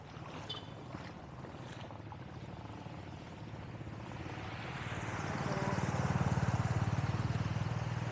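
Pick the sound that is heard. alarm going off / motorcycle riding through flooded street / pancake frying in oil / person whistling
motorcycle riding through flooded street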